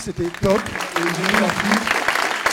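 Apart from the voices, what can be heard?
audience applause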